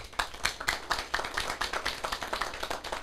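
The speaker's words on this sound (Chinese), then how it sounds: "这个拍手功德啦" An audience at a lecture session clapping, a quick run of distinct, fairly sparse claps from a small group, moderately distant and steady in rhythm.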